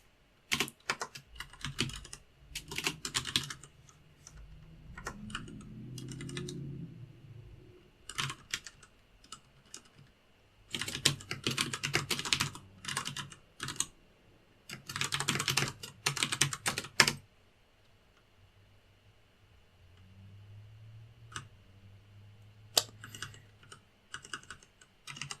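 Typing on a computer keyboard, with dense bursts of rapid key clicks broken by pauses and scattered single taps, close and clear, and a low voice speaking quietly in places.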